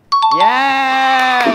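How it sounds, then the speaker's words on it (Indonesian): A Windows computer error chime rings once, bright and tonal, holding its pitch for over a second close and clear, with a short spoken word at its start. "Error dekat Windows punya komputer."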